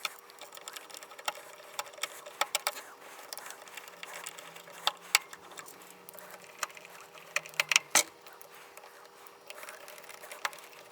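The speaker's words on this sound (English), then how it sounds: "we're going to screw the pickups back down" Screws being driven to fasten bass guitar pickups back down during a repair of an old bass: a run of small irregular clicks and ticks, close and fairly quiet, with a brief louder clatter near the end and no talking.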